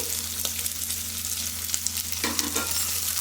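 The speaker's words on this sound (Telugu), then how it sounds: "ఉల్లిగడ్డ పచ్చిమిర్చి వేసుకున్నా. చక్కగా గోల్డెన్ బ్రౌన్ కలర్ వచ్చేంతసేపు వేయించుకోవాలి." Onions, green chillies and whole spices frying steadily in a pan for chicken pulao, a continuous bright sizzle with a few soft crackles and faint stirring, close and alone without voices.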